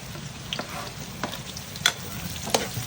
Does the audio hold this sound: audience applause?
no